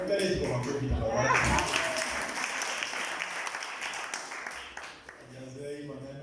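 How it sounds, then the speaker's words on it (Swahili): Applause from a church congregation at a worship centre rises and fills the hall for several seconds, then fades as a voice speaks over the end. "Kale kwa makofi na baba."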